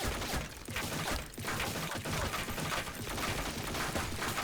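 Rapid gunfire bursts from rifles such as the AK and BREN in the Blackshot shooter game, dense repeated shots in short clusters, loud and continuous without talk.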